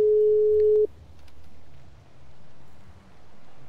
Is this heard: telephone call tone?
yes